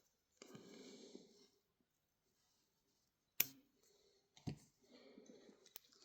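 Scissors snipping off excess thread while tying a chironomid fly, one sharp close click followed by a softer second snip amid faint handling noise.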